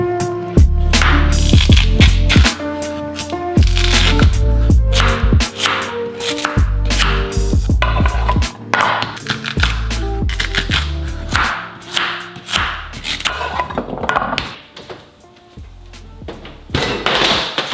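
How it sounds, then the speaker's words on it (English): Sweet potatoes being chopped with a knife on a cutting board during meal prep, a busy run of loud, close thunks and taps in uneven rhythm, with the chopping easing toward the end. "I'm gonna go ahead and cut these sweet potatoes"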